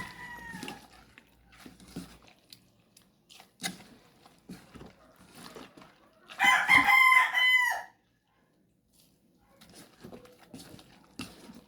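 A rooster crows loudly nearby in the middle, among scattered faint clucks and rustling in an otherwise quiet yard.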